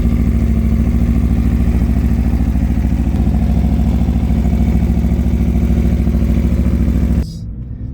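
An Aprilia 1100 Factory motorcycle engine idles loudly and steadily up close with a throbbing, pulsing rhythm, then cuts off abruptly near the end.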